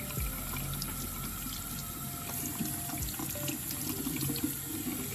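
Tap water pours steadily into a sink while dyed hair is rinsed, a continuous close splashing hiss with faint clinks and drips, and no talking.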